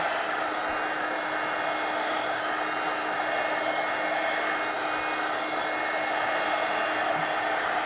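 A hair dryer blows air steadily over a coloring book page, a constant loud whooshing roar with no breaks and no voices.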